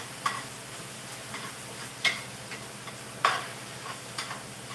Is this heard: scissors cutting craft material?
no